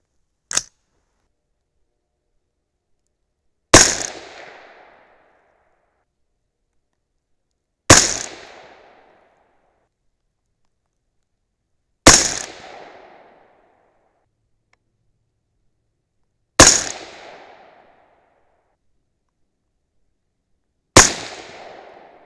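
A .223 Remington rifle loaded with Hornady V-Max handloads fires five loud, sharp shots about four seconds apart, each with a short echoing decay, after a faint click at the start and with no voices.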